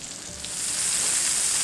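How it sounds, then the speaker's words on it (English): Mushrooms frying in a hot skillet after being added to the pan fond, a bright, hissing sizzle that swells and holds steady, close and continuous with no voices. "That sizzling sound of mushrooms cooking is called the applause."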